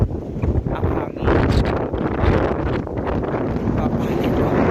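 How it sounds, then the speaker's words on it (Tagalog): Wind buffets the microphone outdoors near a church, a steady loud rumbling roar that covers the whole scene without letting up. "Ang hangin."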